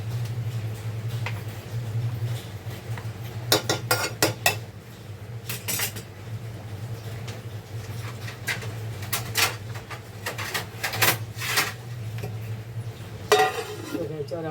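Prawn rice cooking in a pot gets covered with a lid, with several sharp metallic clinks and clanks of lid and utensils over a low steady hum, birds chirping faintly in the background.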